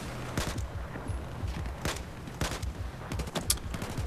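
In Battlefield 4, gunfire aboard a rocking ship sounds as a series of sharp, irregularly spaced shots over a busy background of in-game noise, with no talking.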